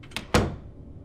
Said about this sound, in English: Turn around and close the goddamn door.